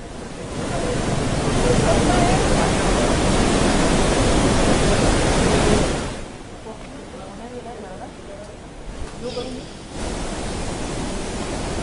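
A loud, steady roar of a flooded river rushing after continuous heavy rain in Nashik, near the Godavari, fills the first half, then drops to a quieter hiss with faint background voices.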